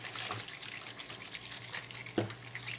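Rubbing alcohol sloshes inside a bottle as it is shaken hard, giving a continuous liquid churning with one sharper knock near the end.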